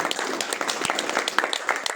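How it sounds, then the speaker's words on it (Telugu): Audience applause at a company event, a short burst of scattered hand claps from a crowd, moderately loud and fairly dense, with some speech mixed in. "సో బిగ్ రౌండ్ అప్లాస్, చప్పట్లు కొట్టండి."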